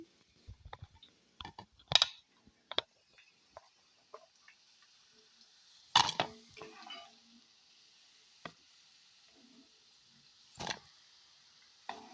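Bitter gourd pieces for a pickle fry in hot oil with a steady, quiet sizzle, broken by a few sharp clinks and stirring scrapes of a utensil in the pan.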